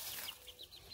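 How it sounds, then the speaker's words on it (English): Baby chickens in a coop give a quick run of soft, high-pitched cheeps, about five short peeps in a second, faint and close against a quiet background. "Here's my baby chickens."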